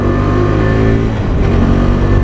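A 2023 KTM RC390's single-cylinder engine revs steadily, its throaty drone rising and falling as it climbs through the gears, loud and close.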